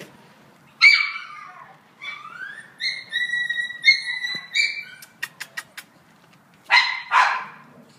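Chihuahuas at a city animal shelter bark in short bursts, with sharp yips and some whiny, whistle-like calls, close and fairly loud, with no talking.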